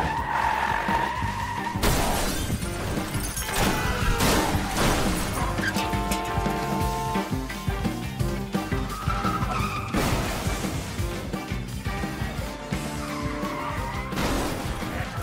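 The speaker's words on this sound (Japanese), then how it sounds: "麻薬売人の逮捕作戦は十数台の車が衝突する大事故で幕を閉じる。" Cars skidding and crashing in a movie's multi-car pileup involving more than a dozen vehicles at the end of a drug-dealer arrest. Dense, loud, continuous vehicle noise with repeated impacts over a music-like background, no talk.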